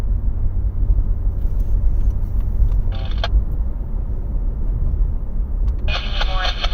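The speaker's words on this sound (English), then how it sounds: "I've been hearing some of that traffic there" Road traffic rolls past on the streets of Athens, Alabama as a constant low rumble, broken by two short, bright hissing bursts.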